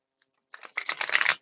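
A quick riffle of tarot cards being shuffled, a short crisp flutter of rapid clicks lasting about a second, close and clear.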